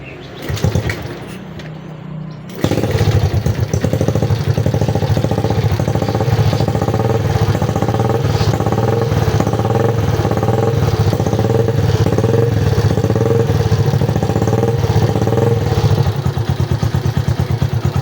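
A Yamaha Jupiter Z1 fuel-injected motorcycle, fitted with an aftermarket XWZ CDI, starts with a short crank and then idles steadily with a close, loud, even chugging. No one speaks while it runs.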